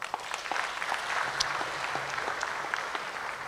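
Audience clapping in a meeting hall, a steady broadband wash of many hands sustained throughout, fairly soft and somewhat distant, with no talk over it.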